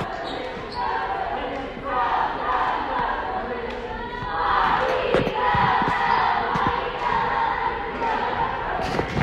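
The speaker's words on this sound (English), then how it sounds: "As the Maroa-Forsyth cheerleaders cheer on their lady Trojans." Maroa-Forsyth cheerleaders chant in unison at a high school girls basketball game, voices rising over crowd noise in a gym, with balls thumping on the hardwood and an announcer talking throughout.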